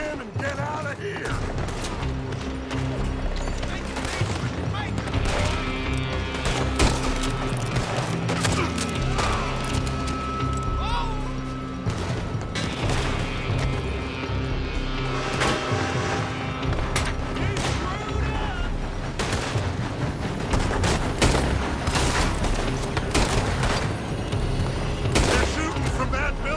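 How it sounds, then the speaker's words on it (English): Dense gunfire in Red Dead Redemption 2 during a shootout: rapid, overlapping volleys of shots, booms and thuds that run loud and continuous, with voices shouting over the din. "They're shooting from that building!"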